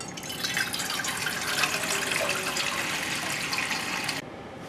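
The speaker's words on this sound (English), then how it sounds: "you need to get a saucepan for your pasta and just fill it up with water" Tap water pours steadily into a saucepan for roughly four seconds, close and fairly loud, then cuts off abruptly.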